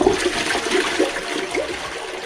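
A macerator toilet flushes with loud, steady rushing and gurgling water, close up and continuous from start to end, with no talking.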